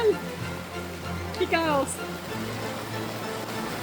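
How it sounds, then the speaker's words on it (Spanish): Steady rain falls on a boat under repair in Puerto Rico, a constant hissing patter heard beneath a person speaking briefly. "Sigue lloviendo"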